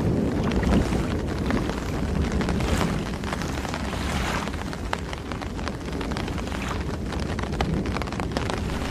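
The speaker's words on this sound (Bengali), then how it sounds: "শো শো বাতাসের গতি বেড়েই চলেছে" Stormy wind effect for a cartoon scene, a steady loud roaring gust with buffeting rumble throughout, near a pond with a boat, no voices.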